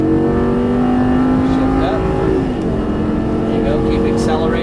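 Lamborghini Gallardo engine on a racetrack, loud and steady as it accelerates hard from inside the car, revs climbing with a brief shift midway, while an instructor talks over it.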